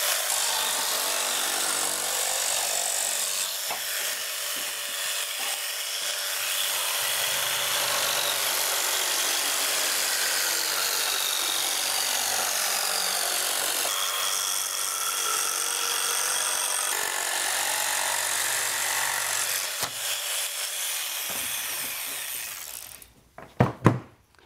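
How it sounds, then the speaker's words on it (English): A handsaw cuts wood to length for a curved, raked boat transom frame, a long continuous rasping stroke sound, near and steady, ending with a few knocks as the piece comes free. "I'm just going to cut it off the length."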